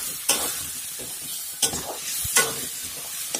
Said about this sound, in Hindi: तो अभी मैं इस पे इस मसाले के साथ ही भूनूंगी आलू